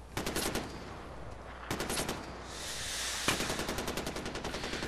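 Rapid automatic gunfire from the shooter game Far Cry 4, loud bursts of repeated shots broken by brief pauses, close and dominant with no talk.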